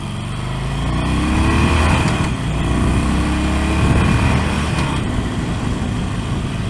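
A stock Harley-Davidson Sportster Forty-Eight motorcycle engine runs steadily with a low, rumbling exhaust and constant drone, heard close up throughout with no voices.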